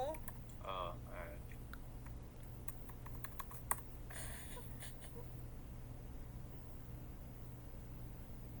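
Computer keyboard typing heard faintly as a quick burst of clicks, with soft talk nearby and a steady low hum underneath.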